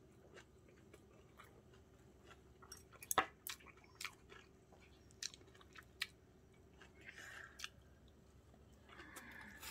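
Someone eating a home meal of rice wrapped in perilla leaves with wild greens: soft, quiet chewing with scattered crisp bites and small clicks against a hushed room, and no talking.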